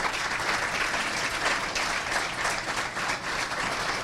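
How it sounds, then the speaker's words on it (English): A large audience applauds at a State of the City address, loud and dense clapping sustained evenly throughout, with no voices over it. "So great round of applause"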